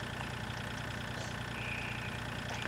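Tractor engine idling in the Farming Simulator 2013 game, a steady low mechanical drone running evenly throughout with no talk over it.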